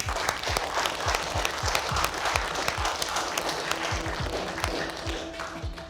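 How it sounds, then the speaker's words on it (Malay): An audience gives a steady, full round of applause for a guest chef arriving on a senior versus junior cooking competition show, with music playing beneath the clapping. "Berikan tepukan paling gemuruh untuk Chef Firdaus"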